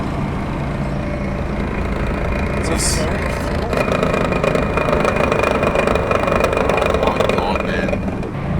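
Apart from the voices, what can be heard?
car engine driving with blown-up automatic gearbox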